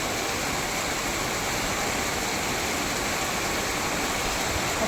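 Heavy night rain in Pune pours down while rainwater flows along the road, making a constant dense hiss and rush that stays even and unbroken, with no talking.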